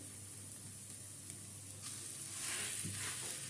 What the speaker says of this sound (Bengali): আদা রসুন পেঁয়াজটাকে হালকা করে ভেজে নিলাম